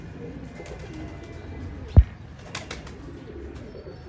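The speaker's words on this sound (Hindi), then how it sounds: "नाना जान वाले कबूतर हैं?" Pigeons in a fancier's loft kept for pigeon flying in Sahiwal give faint, low cooing over quiet room ambience, broken by one sharp knock midway and a few soft rustles.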